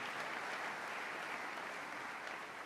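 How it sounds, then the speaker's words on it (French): A church congregation applauds a choir, a steady wash of many hands clapping together that stays even and moderately distant throughout. "Acclamons Jésus pour cette chorale."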